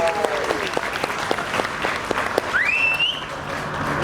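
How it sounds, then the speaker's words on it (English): Big round of applause from a crowd for the Diwali in the Square committee at a London Diwali celebration: dense, sustained clapping with a few sharper claps, plus faint whistles and a voice rising above it near the end. "please, with a big round of applause."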